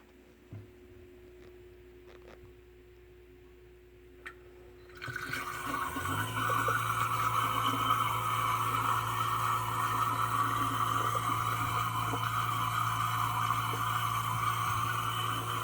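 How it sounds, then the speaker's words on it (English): A Samsung dishwasher with waterfall technology makes a continuous draining noise from inside the machine. After a quiet start with a few faint clicks, a loud steady rush of water kicks in and holds, joined by a low constant hum. "It's like a continuous draining noise coming from somewhere in the machine"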